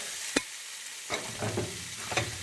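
Mushrooms frying in butter on one side of a pan, with a sharp utensil knock, then soft stirring scrapes and a low sizzle, close and fairly quiet.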